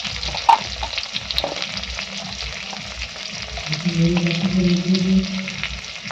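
Spices and chopped tomato frying in a pan with coriander powder mixed in, a steady close sizzle with stirring scrapes and a brief clink, with no voices.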